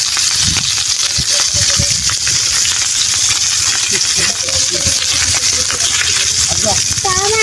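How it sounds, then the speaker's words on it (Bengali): Fish frying in a pan gives a loud, steady hiss and sizzle throughout, with occasional clinks and stirring sounds near the cooking. "মাছ ভাজা হইতেছে।"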